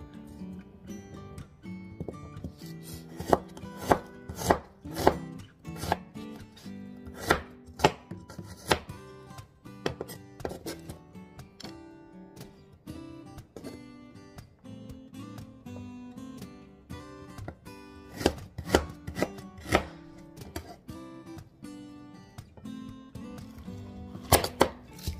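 Ginger being chopped on a cutting board, a long run of sharp, close knife strikes in quick irregular bursts with short pauses between.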